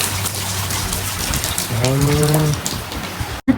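Steady rain hisses throughout at a resort in Kochi, with a brief droning, tonal sound rising in the middle and a sharp knock near the end.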